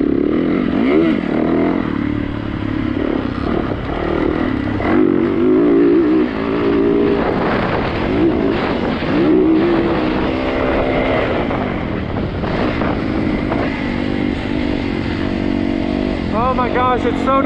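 A 450 motorcycle rides a dirt track, its engine droning and revving continuously and loudly throughout, with shifting pitch as it accelerates and backs off, and some wind noise mixed in.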